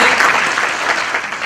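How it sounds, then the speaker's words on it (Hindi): At a Hindi poetry gathering in Kurukshetra, an audience breaks into loud, dense applause, a continuous wash of clapping heard for a brief moment. "बहुत अच्छा, जोरदार तालियां।"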